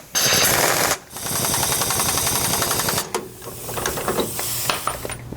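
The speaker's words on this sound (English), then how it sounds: "we'll come back with our impact, and we'll go ahead and tighten them down" An impact wrench tightens U-bolts for a Roadmaster rear anti-sway bar on a 2017 Newmar Canyon Star motorhome: a loud, rapid hammering burst, a brief pause, then a longer rattling run and a quieter tail of clatter.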